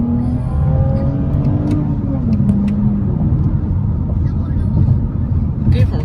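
Engine of a Toyota Camry revving hard while being driven fast and drifted, a loud continuous roar with a rising then falling tone, close by, over steady road rumble and occasional speech.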